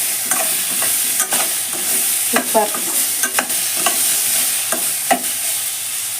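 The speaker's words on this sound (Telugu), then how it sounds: "తాలింపు అన్నీ మంచిగా వేగుతున్నాయి" A tempering of spices and turmeric sizzles in a pan, with repeated sharp spatula scrapes and taps over a steady frying hiss; someone briefly speaks.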